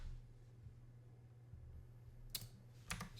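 A few computer keyboard keystrokes sound at a desk while building an inventory system in Unreal Engine 5.6, two sharp clusters of clicks near the end after a quiet stretch of low hum, with no talking.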